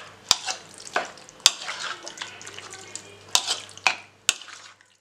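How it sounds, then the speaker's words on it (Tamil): A spoon stirs and mixes chicken marinade with tomato sauce and soy sauce in a bowl, giving wet, squelchy mixing broken by several sharp clinks against the dish, close up, with no voices. "கொ நல்லா வந்து கலக்கி விட்டுடுங்க"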